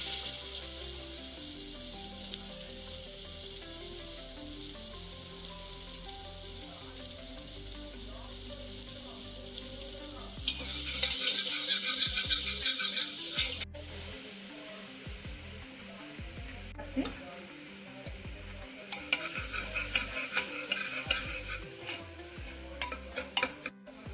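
Onions fry in hot oil for a mutton dish, a steady loud sizzle broken by bursts of scraping and stirring, with a few clinks of a utensil against the pan.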